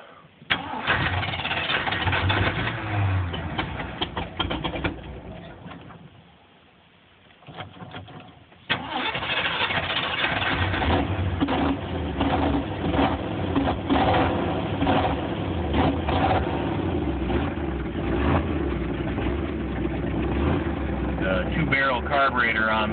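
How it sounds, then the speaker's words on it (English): An engine with a two-barrel carburetor cranks and fires, cuts out briefly, then restarts and settles into a steady, smooth idle that runs on loud and close, with occasional talk over it. "That engine just runs nice and smooth."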